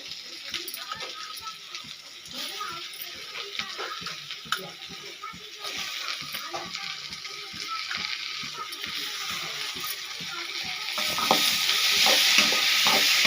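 Chopped tomatoes sautéing in a pan for chicken gravy, a continuous close sizzle broken by rapid rhythmic spatula strokes, the frying growing brighter and louder near the end.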